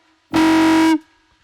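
A synthesized foghorn built in FL Studio from wavetables, white noise and a resonant filter with automation: one loud, sustained, buzzy horn blast about two thirds of a second long, alone, with a short fading tail.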